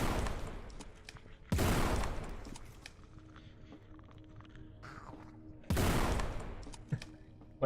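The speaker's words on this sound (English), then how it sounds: "Oh, that's a good shotgun." Shotgun fire in an indie first-person shooter: two loud, booming blasts about four seconds apart, each followed by a short decaying tail, with quieter rattles and footsteps between them.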